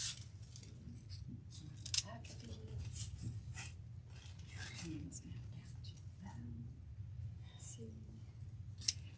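Scissors snip quietly and repeatedly while a gingerbread Christmas wreath is being made, with soft close cuts running under murmured talk and low background hum.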